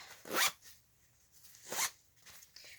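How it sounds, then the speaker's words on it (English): A zipper closes on a concealed carry bag in two quick, close rasping pulls, followed by a fainter third tug, with no talk. "It zips up."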